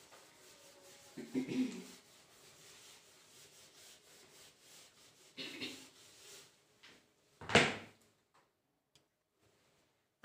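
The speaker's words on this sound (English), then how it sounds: "let me rub the board." A classroom board is wiped clean with a few soft rubbing strokes. The strokes come in scattered bursts over quiet room tone, followed by a sharp scrape near the end.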